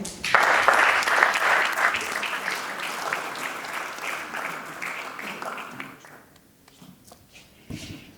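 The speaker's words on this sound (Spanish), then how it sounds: "Un gran aplauso para él." Applause from the audience at an awards ceremony for the San Isidro 2025 prizes: loud, dense clapping bursts out at once, then thins and fades over several seconds, leaving a few scattered claps.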